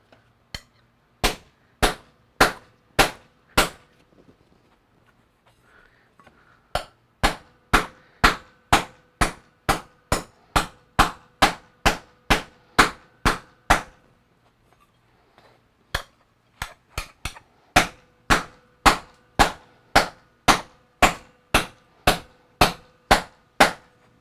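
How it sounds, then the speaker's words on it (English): Hammer repeatedly striking sheet metal on a sandbag atop a stump to dish it, sharp ringing blows in quick steady runs separated by brief pauses, close and loud with no talking. "We got the old sandbag on the stump. Let's go ahead, just give it a few whacks."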